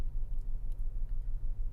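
Steady low car engine rumble heard from inside a parked car, a continuous even drone with no talking.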